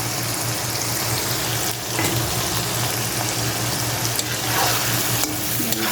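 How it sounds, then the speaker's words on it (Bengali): Chopped onion fries in a pan with a steady, loud sizzle, broken only by brief scrapes of stirring, and a low constant hum runs underneath from start to finish. "এর মধ্যে আমি দিয়ে দিব একটা পেঁয়াজ কুচি, দিয়ে এটাও একটু ভাজবো"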